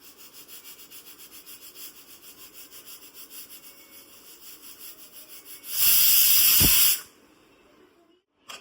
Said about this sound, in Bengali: প্রেসার কুকারের ঢাকাটা বন্ধ করে দিলাম। কটা সিটি হবে মা?